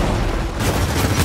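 A frag grenade blast in the video game Gears of War 4 erupts as a dense, loud burst of booming noise, with heavy rumbling and crackling gunfire filling the short stretch.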